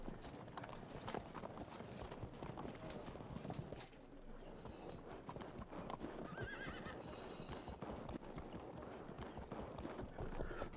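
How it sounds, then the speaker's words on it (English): Horses gallop with steady, dense clip-clop hoofbeats and occasional whinnies throughout, as horse archers advance in the strategy game Field of Glory II; the sound is loud and continuous, with no talk over it. "let's move these horse archers up and see if we can't start engaging."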